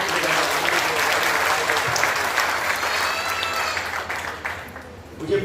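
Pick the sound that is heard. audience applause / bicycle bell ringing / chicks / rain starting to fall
audience applause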